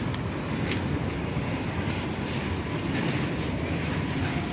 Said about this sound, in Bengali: কত বড় ট্রেন এটা হচ্ছে মাল ট্রেন